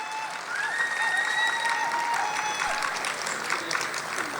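Audience applause for Valli Kummi folk dancers at a large village festival, a steady moderate patter of many hands clapping at a distance, holding evenly for several seconds.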